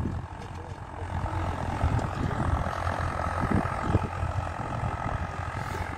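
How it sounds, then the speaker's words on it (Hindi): A Swaraj 855 diesel tractor runs in second gear at 1800 RPM while pulling a harrow in a field, giving a steady, rough engine drone throughout. "स्वराज 855 सेकंड आई में 1800 RPM पे चल रहा है भाई।"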